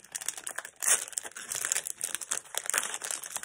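Plastic packaging on pens crinkles and crackles as it is opened, a close, continuous rustling with brief louder tearing bursts.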